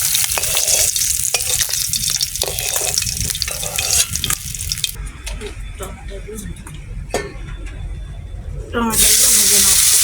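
Tomatoes frying in a pan with a loud, close, continuous sizzle and stirring, punctuated by occasional clatter. A voice talks over it, and the sizzling swells louder near the end.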